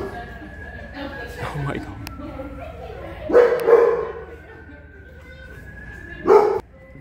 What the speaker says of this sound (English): Oh, I know you're barking at me.